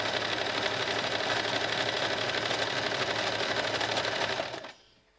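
A sewing machine runs steadily along a straight dress seam, its rapid, even needle clatter loud and close for over four seconds before stopping abruptly, leaving near silence.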